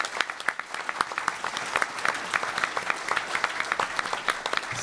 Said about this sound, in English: Let's give the city staff a round of applause for all the work they do every day.